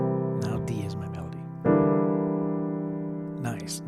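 Two thick locked-hands dominant piano voicings ring in turn, the first with C in the melody and the second, struck about halfway, with D on top, each sustaining under a man's soft speech at the start and end.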